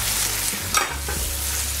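Adobo sauce of apple cider vinegar and soy sauce heating on high in a pan, a steady low sizzle with a brief stir or clatter near the middle, no voices.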